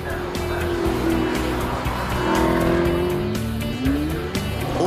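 An Alfa Romeo 8C Spider with a 4.7-litre V8 in Gran Turismo 5 at the Goodwood Festival of Speed, engine revving loudly and close with rising and falling pitch and tire squeal, while a voice narrates over it.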